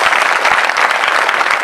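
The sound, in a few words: audience applause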